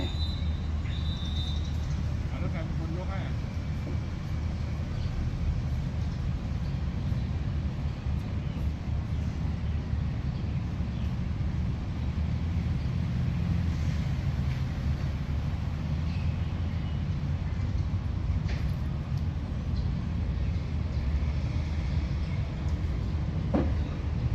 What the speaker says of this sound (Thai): ขบวนเชียงใหม่ ออกแล้วนะครับ กรุงเทพเชียงใหม่